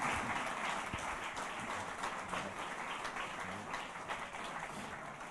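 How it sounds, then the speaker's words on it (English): Faint applause from an audience at the Southern 100 2024 motorcycle road race press launch, a soft, even patter of clapping in a room that fades slightly toward the end. "Ladies and gentlemen, give him a round of applause."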